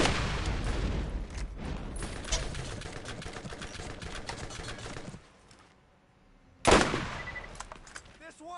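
Rapid automatic gunfire in the video game Borderlands, a loud sustained burst for about five seconds, a brief lull, then another heavy burst.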